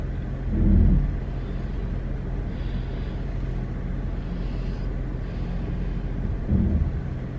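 A car driving on the road: a steady low rumble of road and engine noise heard from inside, swelling slightly twice, with no voices.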